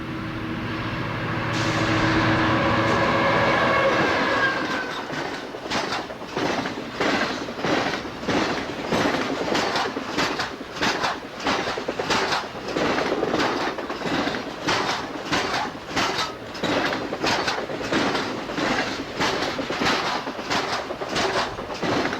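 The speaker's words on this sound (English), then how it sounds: "with EMD GP50 number 7021 leading the train south" A Norfolk Southern Triple Crown freight train led by EMD GP50 diesel locomotive number 7021 rolls past at Norris, South Carolina, in 1989; a loud diesel roar gives way to a long, rhythmic clickety-clack of wheels over rail joints.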